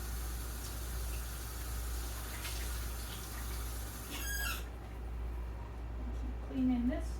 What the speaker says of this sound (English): Rinse this rag off